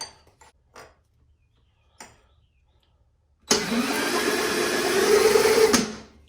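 Pull-start of a Bolens lawn mower engine during a spark check, heard as a sudden loud burst of cranking and buzzing that lasts about two seconds and then cuts off. A few faint clicks and handling noises come before it.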